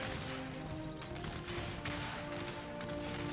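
Crimean War era musket volleys crackle in a Total War battle between Russian and British troops, a dense, continuous rattle of massed rifle fire with a few sharper bursts standing out, no voices.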